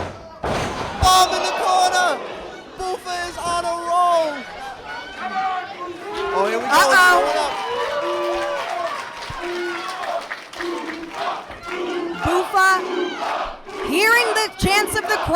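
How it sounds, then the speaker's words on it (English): Crowd at a live wrestling event chanting and cheering loudly, rhythmic massed voices rising and falling with bursts of applause and impacts, while an excited commentator talks over the noise. "chants of the crowd"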